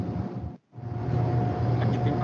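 The travel motor of an industrial overhead crane runs with a steady, rumbling mechanical hum and a thin whine, briefly dropping out before resuming louder.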